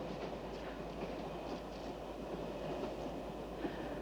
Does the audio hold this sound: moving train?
yes